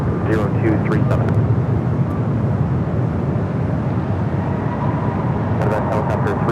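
A WestJet airliner on Flight 1102 from Vancouver arrives at LAX, its jet engines giving off a loud, continuous broadband roar that holds steady throughout, with faint clicks near the start and end.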